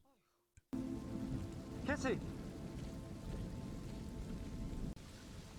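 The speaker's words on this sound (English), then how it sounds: "suddenly it's raining. It's just standing in the rain." Steady rain patters and hisses on a surface throughout, after a brief shout and some voices near the start.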